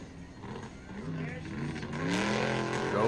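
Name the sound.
monster truck engine revving at a monster truck show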